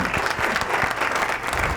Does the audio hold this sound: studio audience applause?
yes